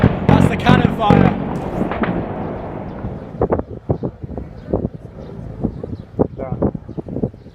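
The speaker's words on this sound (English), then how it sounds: "You can hear the return fire from the rebels further into the city. That's the cannon fire." Sharp booming reports of heavy cannon fire go off repeatedly at uneven intervals during fighting at Donetsk Airport, some close and loud, others more distant, with voices talking over the start.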